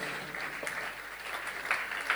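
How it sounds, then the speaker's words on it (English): An audience at a church service claps for a pastor, a faint but steady wash of applause with a few sharper claps rising near the end. "One more time, a better applause for Pastor Chukwudi, Christian Abana."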